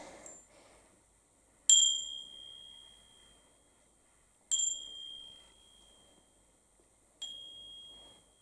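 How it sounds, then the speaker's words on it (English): A small hand bell rung over a tarot deck to cleanse it: three separate clear, high metallic dings a few seconds apart, each ringing out and fading slowly in a quiet room. "It doesn't have to be a bell like this."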